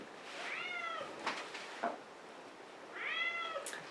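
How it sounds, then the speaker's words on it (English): Two drawn-out house-cat meows with rising, harmonic-rich tone, close and clear, separated by a short gap with a few soft knocks and rustles in between. "my cats are going nuts"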